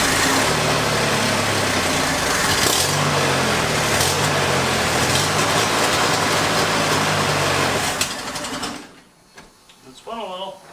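A barn find Corvair engine cranks over with a steady, loud mechanical whirring that runs continuously for about eight seconds before cutting off into quiet, followed by a brief faint voice.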